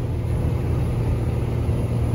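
A truck engine labouring up a steep climb, a heavy, steady low rumble held at constant load close by, with no talk over it.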